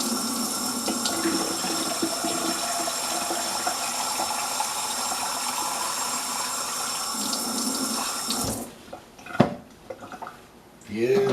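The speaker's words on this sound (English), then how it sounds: "So I'll bring it up to the line with cold water." Cold water runs steadily from a tap into a NutriBullet blender cup, a continuous splashing fill that cuts off near the end, followed by a few brief clatters and handling sounds.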